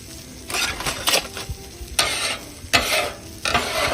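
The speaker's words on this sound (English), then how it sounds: "let me scrape this up here. See these things here, these brown bits?" A metal spatula scrapes browned bits across a hot Blackstone griddle in repeated strokes while food sizzles steadily underneath, loud and close.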